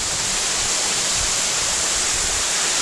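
Constant roaring rush of Cehennem Waterfall in Kırklareli, Turkey, in winter, loud and unbroken, a dense hiss filling the whole stretch without pauses.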